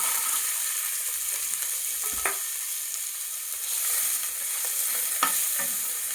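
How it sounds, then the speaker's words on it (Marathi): Onion fries in a ladle of oil in a wok, a steady close sizzle broken by a few sharp stirring clinks. "त्यामध्ये आता कांदा परतायला टाकत आहोत."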